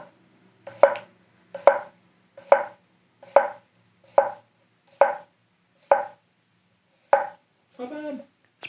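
A kitchen knife chops through food on a cutting board in about eight sharp, evenly spaced strikes, close and clear, followed by a brief scraping rustle at the end.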